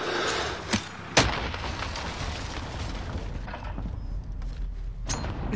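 A video game explosion bursts out as a sharp, loud boom near the start, followed by a dense, steady rumble of game noise that fills the rest of the clip.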